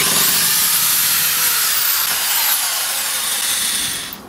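A power drill bores through two layers of sheet metal on a widebody Toyota AE86, giving a steady, loud, high-pitched grinding whine that holds for about four seconds before tapering off at the end, with no talk over it.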